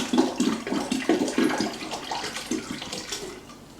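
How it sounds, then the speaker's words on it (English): Well water from a tap pours into a five-gallon batch of homemade blueberry wine, a fairly close, steady splashing and gurgling that fluctuates slightly throughout. "I'm gonna use water right out of the tap"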